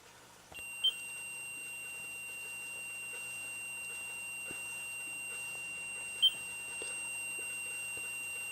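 A Mel meter's REM function sounds faintly in a quiet bedroom at night, holding a steady high electronic tone punctuated by two short, sharp beeps several seconds apart.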